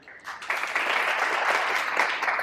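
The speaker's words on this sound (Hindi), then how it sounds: "तालियां तो बजा दी।" An audience at an event supporting underserved girl students breaks into steady applause, many hands clapping together in a dense, sustained burst that lasts a couple of seconds without pause.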